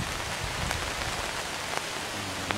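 Steady rain falls outdoors in Chelsea, Alabama, on a windy day, a dense even hiss of drops striking surfaces nearby with a few louder individual drips, and no voices.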